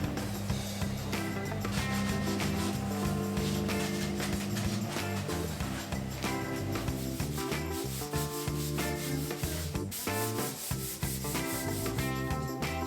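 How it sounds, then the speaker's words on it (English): Bathroom cabinets being sanded down before painting, a continuous close rasping rub of abrasive on wood that runs steadily for the whole stretch, with no voices. "then sand down the cabinets so I could start"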